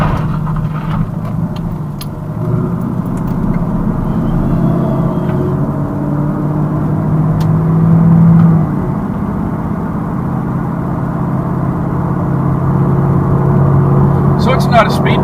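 A 1982 Corvette C3 on the move, its engine and road noise forming a steady, close, low rumble throughout, with a voice faintly present underneath.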